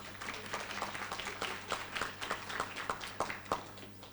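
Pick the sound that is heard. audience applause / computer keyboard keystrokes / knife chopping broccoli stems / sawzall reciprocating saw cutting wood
audience applause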